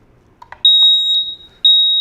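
An X-Sense wireless interconnected smoke detector is set off with its test button after a couple of faint clicks, then emits piercing, very loud high-pitched beeps, one long tone followed by the start of another.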